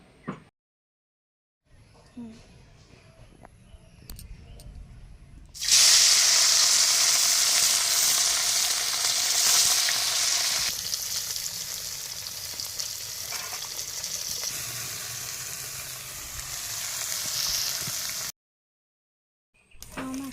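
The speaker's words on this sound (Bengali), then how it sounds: "কড়াইতে তেল দেওয়া হয়ে গেছে এবারে মাছগুলো দিয়ে দেবে আবারও ভেজে তুলে নেবে" Small fish frying in hot oil in a wok, a loud steady sizzle that starts abruptly after a quieter stretch and continues evenly, with no talking.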